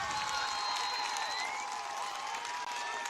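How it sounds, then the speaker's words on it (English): A high school football crowd at a Leominster versus Westborough game roars and cheers after an interception, a loud, steady wall of shouting and applause with a voice talking over it. "this crowd is going nuts"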